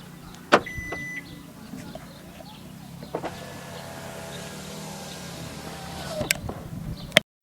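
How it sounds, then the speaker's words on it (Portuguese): A parked car's alarm being armed, with a few sharp beeps or chirps and soft mechanical locking whirs spread across a quiet background. "O alarme."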